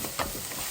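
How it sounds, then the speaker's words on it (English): Green peppers sautéing in a pan for a vegan queso dip, a soft hiss with a brief scrape of stirring, close and fairly quiet, no talking. "So now we're adding our green peppers to this pan, and we're gonna saute this baby."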